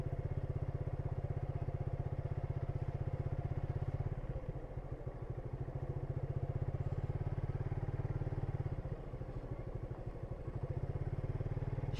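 A motorcycle engine runs steadily close by at a grassy rural outing spot, with a continuous low throbbing drone that dips slightly once or twice and no talk over it.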